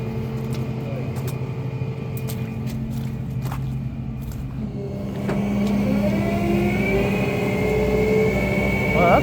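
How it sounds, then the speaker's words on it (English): A tow truck winch hauls a flatbed truck aboard at Big Lake, Alaska: a steady engine drone runs throughout, and about halfway through a louder mechanical whine rises and climbs in pitch. "Well, that's a fast winch."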